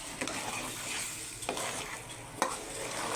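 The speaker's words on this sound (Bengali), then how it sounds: "চাল আর ডাল ভালো করে মিশাই দিচ্ছে" Rice and lentils for khichuri are stirred in a pot over a steady background hiss, with soft scraping and occasional sharp clinks of the spoon against the pot.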